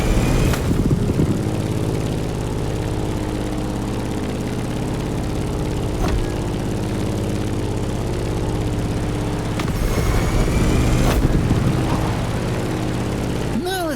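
A propeller plane's engine from the racing game The Crew Motorfest drones steadily with a low, layered hum, holding level throughout with a few brief swells.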